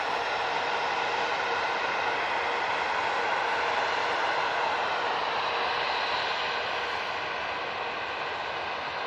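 An SAS airliner passing at Manchester Airport, a steady broad jet roar that holds loud and even throughout with no voices.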